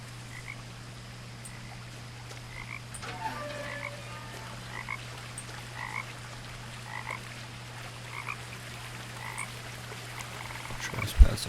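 Frogs croak in the video game What Remains of Edith Finch, a steady chorus of short repeated croaks over a constant low hum and soft ambient wash, with a brief louder knock at the end.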